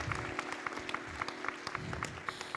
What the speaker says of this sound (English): I have a round of applause for you that you can share with us